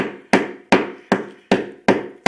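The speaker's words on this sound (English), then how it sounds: "I'm going to bang these in" Butt of a metal-capped knife banging screw anchors into an indoor wall, six sharp, loud impacts at a steady rhythm, each with a short ringing decay, no talking.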